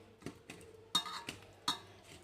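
Fish fry marinade is stirred with oil in a bowl, giving soft, quiet scraping and clinking strokes about every half second, with two sharper taps of a utensil against the bowl.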